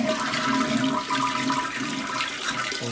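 A hotel room toilet flushing with strong water flow, a steady loud rushing and gurgling wash lasting a few seconds, heard close with no talk.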